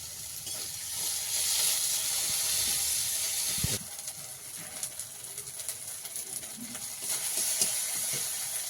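Dried chilli and ginger-garlic paste frying in hot oil with panch phoron and onion, a steady close sizzle and hiss that flares briefly partway through, then keeps crackling softly. No talking.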